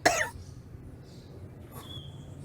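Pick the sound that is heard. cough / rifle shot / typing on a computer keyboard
cough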